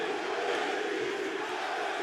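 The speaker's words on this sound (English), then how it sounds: "to have fans chanting for you to be the MVP of the season" A sports crowd at a league championship game keeps up a dense, steady roar of chanting and cheering, loud and continuous with no breaks.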